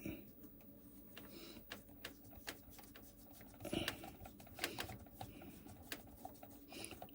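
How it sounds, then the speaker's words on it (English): Screws go back into a PS One LCD screen with a faulty hinge: faint, close clicks, taps and scrapes of a screwdriver and small plastic parts in an irregular run. "let's put some screws back in"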